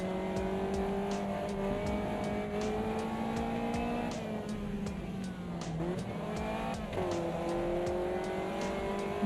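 Race cars in a racing video game drone at steady high revs, engine notes rising and dipping as gears shift, a continuous close, moderately quiet roar with no talk.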